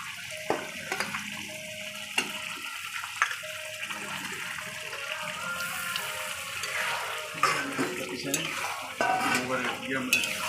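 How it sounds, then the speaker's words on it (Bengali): 500 grams of goat meat with whole garlic cloves fry in a pan, a steady close sizzle broken by scraping stirs and sharp clatters. "এরপর এখন আমি দিয়ে দেবো এর মধ্যে 500 গ্রাম খাসির মাংস, সঙ্গে গোটা রসুন আছে।"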